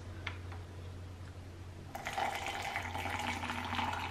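Warm water pours into a cup for chai, a splashy filling sound starting about halfway through and continuing steadily to the end, close and moderately quiet over a low hum.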